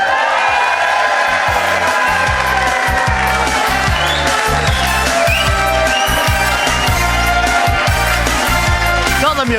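A stage show audience cheers, shouts and whoops for comedian Bobby Ball under a steady thumping beat of loud music, with the crowd noise blending into the continuous dense mix throughout.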